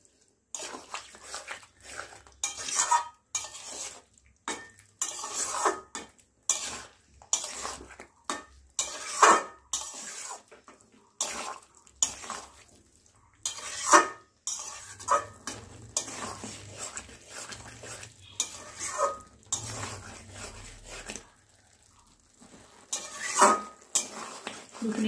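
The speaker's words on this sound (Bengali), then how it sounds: "দেখুন এভাবে ভালোভাবে মিক্স করে এটাকে আর কিছুক্ষণ ধরে কষাতে হবে।" Masala and potatoes for alur dom are stirred and fried in a pan: a spoon repeatedly scrapes and clatters against the metal in uneven bursts, with a soft sizzle between strokes, close and moderately loud.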